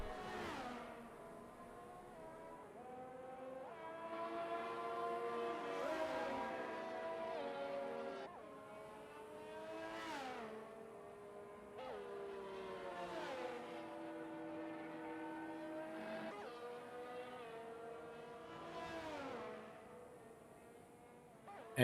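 An Alfa Romeo race car heard onboard in a racing video game at a Saudi Arabia Grand Prix circuit, its engine repeatedly revving up through the gears with short drops at each shift, steady and fairly faint throughout.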